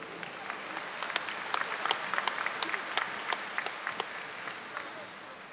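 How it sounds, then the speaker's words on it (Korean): A large crowd at a 2007 Grand National Party convention in South Korea applauds vigorously, a sustained dense clapping with sharp individual claps standing out and a faint voice underneath. "힘찬 박수로 맞이해 주시기 바랍니다"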